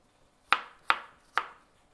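A knife chops through apples on a cutting board while they are cubed for a salad: three crisp, close, evenly spaced chops with no talking.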